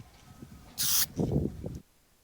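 A model car body, a Matchbox Lesney MG 1100, gets a coat of blue spray paint: a single short, bright hiss from the spray can, followed by faint rustling handling noise.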